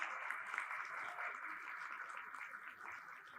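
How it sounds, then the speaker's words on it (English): Applause from an audience at a city Duchess pageant competition, a faint, steady clatter of clapping heard from a distance with no voices. "One more round of applause, please, for all our amazing contestants."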